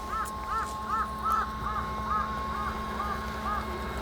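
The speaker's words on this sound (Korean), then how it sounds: "여기 까마귀 이렇게 많네요" Crows at a spring campsite give a run of about eight harsh caws at a fairly regular pace, moderately distant, over a low steady hum.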